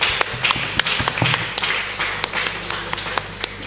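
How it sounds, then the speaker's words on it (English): A church congregation claps for a preacher as he comes forward, with sharp individual handclaps over a busy, roomy crowd wash and a few louder claps standing out. "clap to our brother as he comes."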